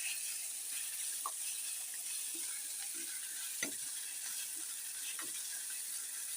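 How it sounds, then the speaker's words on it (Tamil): Eggplant fries in oil in a pan with a soft, steady sizzle, faint and low, broken by a few light clinks and stirs. "அதுக்குள்ள கத்திரிக்காயை எண்ணெயில் போட்டிருக்கேன்"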